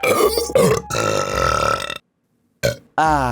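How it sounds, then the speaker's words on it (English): Several loud, close burps follow one another, long croaky belches broken by a brief silence, the last one deep and rattling. "You're here to listen to people actually burp."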